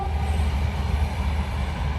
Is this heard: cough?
no